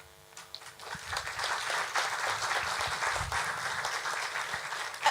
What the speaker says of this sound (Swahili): Makofi zaidi kwa Agroasis